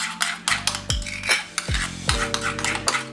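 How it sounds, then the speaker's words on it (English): Garlic dip with salt and pepper stirred briskly in a bowl, repeated clinking and scraping of a utensil against the dish with short tonal rings, close and without speech. "we're going to mix that up and give it a good mix"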